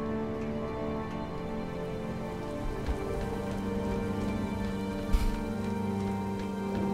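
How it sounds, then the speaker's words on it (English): Steady rainfall in Halo: Reach patters continuously on surfaces, a soft even hiss with scattered drops and a faint low rumble beneath. "Rain."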